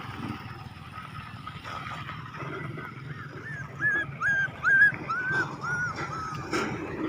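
Small abandoned puppy whimpering and yipping in short high whines, fairly close, over a steady low rumble of a boat or water in the background.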